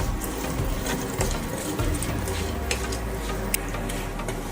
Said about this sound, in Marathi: सगळे साहित्य छान असं तळत आहे तेलामध्ये